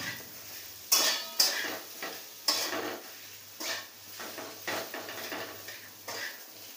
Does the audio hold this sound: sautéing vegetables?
yes